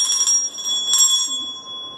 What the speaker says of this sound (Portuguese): Ativa o sininho para você ficar ligado aqui